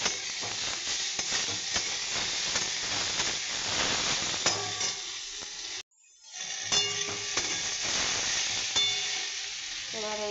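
Tomatoes and a ground paste of garlic, green chilli and onion sizzle in a hot pan, a dense steady frying hiss with stirring scrapes, briefly cut off by a short silent gap before resuming.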